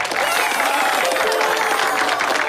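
Dense, steady applause from a magic show audience fills the whole stretch, a loud wash of many hands clapping together with no voices standing out.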